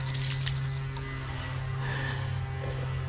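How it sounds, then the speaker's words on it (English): Water drains from a Central Boiler outdoor wood boiler, a steady close pouring and trickling over a constant low mechanical hum. "I decided to come back and check the water one more time as it's draining"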